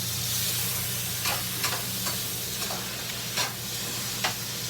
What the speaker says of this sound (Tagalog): Habang nilulunod niya ang kamatis, ginigisa-gisa niya.